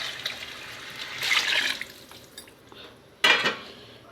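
Measured water is poured into a pot of jackfruit biryani rice in two splashy bursts over a faint background of kitchen noise.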